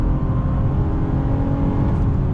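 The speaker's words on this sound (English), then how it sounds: "So the shift's very quick. I love the sound coming from the engine." A 2019 Acura MDX A-Spec SUV accelerating, a loud steady engine drone with low rumble heard from inside the cabin, no voices.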